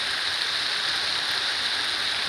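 Rain falling outside a bus in cold, wet weather, a steady even hiss of drops with no distinct individual hits and no talk.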